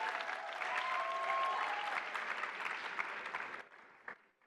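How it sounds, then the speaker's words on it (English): A conference audience at a closing session claps in sustained, dense applause that stays strong before tapering off and fading out near the end, with faint voices underneath. "Can I get a hand of applause for all of you?"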